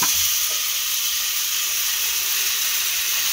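A ladle of semolina and flattened rice batter poured into hot oil, a loud, dense hiss and sizzle that runs continuously from start to finish.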